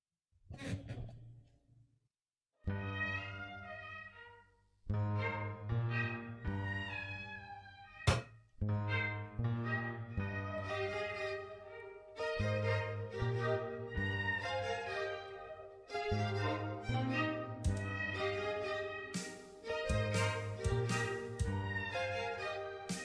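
A Dutch song with sustained harmonic vocal or instrumental phrases in separate sections, opening with a brief pause before the music settles into steady, moderately loud passages.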